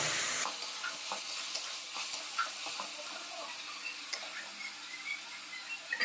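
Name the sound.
onion paste frying in oil for chicken curry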